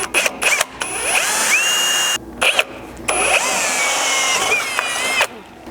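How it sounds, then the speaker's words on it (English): A power drill bores a 3/16 pilot hole into a 4th-gen Toyota Tacoma rear steel bumper, its close, high whine rising and falling in several short bursts with brief pauses. "So here I'm starting out with, I believe, a 3/16 bit as somewhat of our pilot hole."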